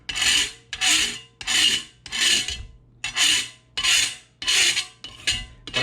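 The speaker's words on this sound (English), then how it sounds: "take a knife steel like this and go across to bend that lip over" A knife steel burnishes the edge of a card scraper in eight even rasping strokes, each a close, scraping metal-on-metal swipe with short pauses between, no talking.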